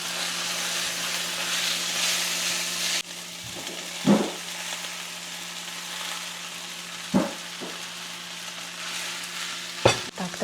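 Rice and cooked vegetables sizzle together in one frying pan as a steady hiss, broken by a few sharp scraping stirs at intervals, with no one talking.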